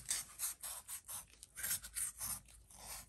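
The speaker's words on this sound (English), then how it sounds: "I filed off the burrs that were formed" Steady rhythmic rasping of a file and sandpaper working burrs off a metal part from a vintage Briggs & Stratton engine, about a dozen back-and-forth strokes, close and moderately quiet with no voices.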